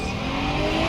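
A Land Rover engine revving hard while climbing a sandy off-road slope, a loud, continuous strained roar across a brief burst, with no talk.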